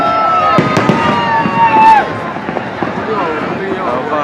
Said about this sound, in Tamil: பட்டாசு போடுறாங்களா?